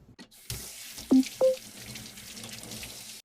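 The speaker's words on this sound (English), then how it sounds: "Now let's wash our hands before we get started" Running tap water splashes into a sink while hands are rinsed, in a miniature kitchen cooking setup, a steady trickling wash with a couple of brief louder splashes partway through.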